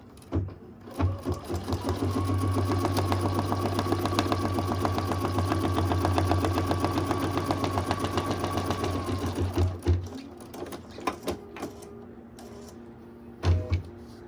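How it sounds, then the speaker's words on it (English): An embroidery sewing machine working in the hoop stitches a straight line with a rapid, steady mechanical whir and ticking for about nine seconds, then stops, leaving faint handling clicks. "This is going to stitch a line right straight across."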